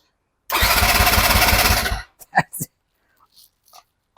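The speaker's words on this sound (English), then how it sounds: "I've never heard this bike try and start so urgently" Motorcycle engine cranked by a Topdon JS1200 lithium jump starter: a loud, rapid starter churn for about one and a half seconds, then several short sputtering bursts as it tries to fire, with brief quiet gaps.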